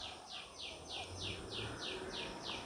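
A koel perched up in a tree calls outdoors in a steady, repeating series of rising notes, about eight evenly spaced calls, fairly faint against rustling background noise.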